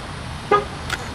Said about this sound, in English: Make sure I lock my car